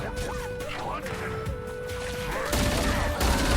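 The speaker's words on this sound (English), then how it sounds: "Why does the battle rifle sound like the assault rifle?" Repeated battle rifle gunfire from the video game Halo Campaign Evolved, dense bursts of shots over game music and effects, growing louder and busier toward the end.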